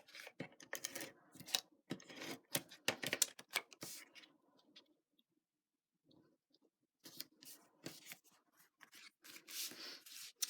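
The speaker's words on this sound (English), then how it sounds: "I'm actually going to cut this down because I want that indentation just like that" Card stock being trimmed to size for an ice cream-themed greeting card, heard as a run of crisp scissor snips and paper rustles, close and fairly quiet, with a pause in the middle before the cutting resumes.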